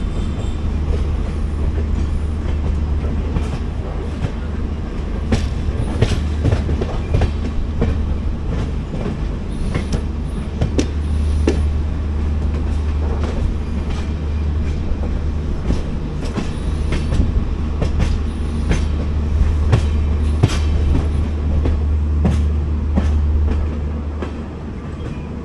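The Gomateshwara Express leaving Sakleshpur station onto the main line toward the ghat section, heard from aboard as a loud steady rumble with repeated wheel clicks and clanks over the rails, with no talk.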